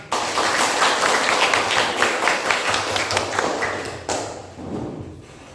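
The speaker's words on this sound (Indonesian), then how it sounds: "Terima kasih, tepuk tangan" A burst of clapping from a group, loud and busy at first, then thinning out and fading near the end.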